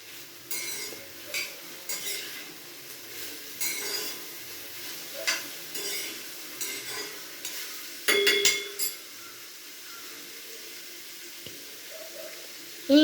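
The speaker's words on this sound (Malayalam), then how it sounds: "ആ ചൂടായ എണ്ണയ്ക്കകത്തോട്ട്. ഇനി ഇത് നമുക്കൊന്ന് മിക്സ് ചെയ്യാം." Ingredients are stirred through hot oil in a pan for a curry, giving intermittent scraping and clinking of a utensil against the pan with faint sizzling, scattered across the stretch with soft background voice.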